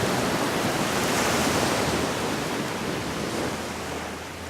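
Ocean surf rolls in a steady, broad wash of breaking waves, loud and close with no voices, easing slightly toward the end.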